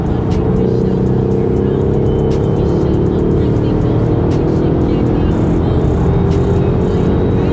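A Mercedes-AMG GLS 63 SUV engine braking as the driver downshifts with the paddles. A loud, steady low engine drone runs throughout with rising and falling tones, heard from inside the cabin.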